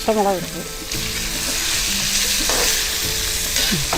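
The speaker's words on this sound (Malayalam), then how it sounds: "ആദ്യം വെളിച്ചെണ്ണ ഒഴിച്ചു, സബോള, പച്ചമുളക്," Onion and green chilli fry in coconut oil with a loud, close, steady sizzle and occasional stirring, and a brief bit of background sound at the start.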